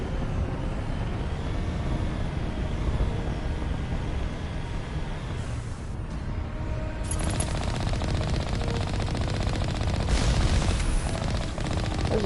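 Automated turrets firing in Mass Effect, sending out rapid bursts of mechanical gunfire that rattle on steadily over a low rumbling combat backdrop, fairly close and with no talking.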